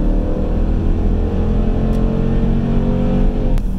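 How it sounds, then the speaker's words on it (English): A V8 car's exhaust drones as it accelerates on an open highway in manual mode, a loud, steady, deep rumble heard from inside the car with no talking. "Let's see if we can get some exhaust noise here on the highway."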